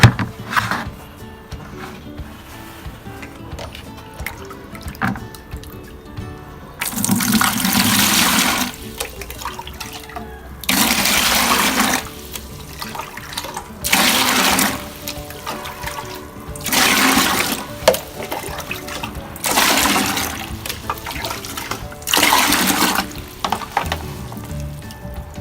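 Water poured in bursts into the tub of a budget mini washing machine, a loud gushing splash lasting a few seconds at a time, repeated about six times with quieter gaps between pours.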